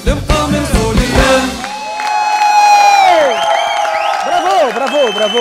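A studio audience on a televised Tunisian variety show claps and cheers loudly, with whoops and shouts rising after music fades, while a voice speaks over the crowd.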